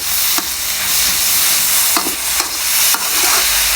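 Egg fried rice stir-fried in a hot pan as soy sauce goes in, with a continuous close sizzle broken by several sharp scraping stir strokes of the spatula.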